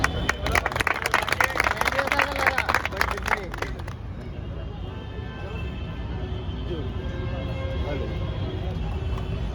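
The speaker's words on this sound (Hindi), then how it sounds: "बहुत बहुत हमारी तरफ से इनके लिए तालीम दें।" Audience clapping at a roadside gathering in the capital, a dense burst of hand claps over crowd murmur for the first four seconds, then fading into traffic and chatter.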